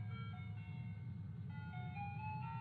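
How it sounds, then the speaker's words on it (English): Tinny old-timey ice cream truck jingle playing from cheap rooftop speakers, a steady looping melody over a low engine rumble, heard alone without talk. "The song playing on a pair of shitty speakers. The kind you'd hear on top of an old-timey ice cream truck."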